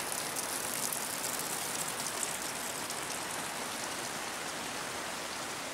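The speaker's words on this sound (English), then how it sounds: "Pouring rain." Heavy pouring rain in the East Kootenay outdoors, a dense, steady hiss of drops drumming on surfaces that stays loud and unbroken throughout, with no voices.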